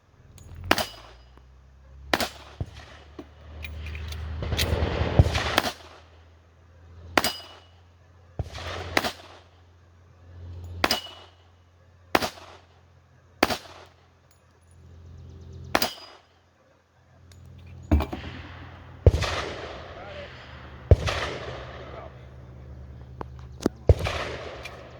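Sharp gunshots from an M1 Garand rifle and a 1911 pistol at a classic-division shooting match outdoors, fired singly in an uneven series of loud cracks with brief pauses between groups.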